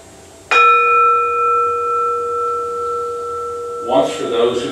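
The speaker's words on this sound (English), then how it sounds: "We ring the gong 3 times." A single struck gong or bell rings out sharply, then hums with a long, steady sustain; people begin talking near the end. Only one strike is evident, not three.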